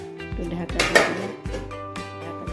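A cooking pot being covered with its lid in a home kitchen while a vegetarian dish simmers, giving a few close metallic clanks and scrapes of lid against pot over faint background music.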